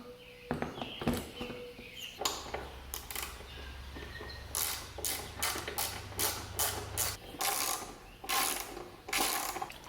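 A hand ratchet clicks in quick repeated bursts while tightening down a part on a car project, the ratcheting strokes close and crisp with short pauses between runs and a low hum beneath.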